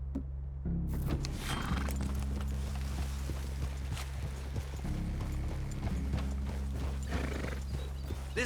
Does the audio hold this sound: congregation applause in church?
no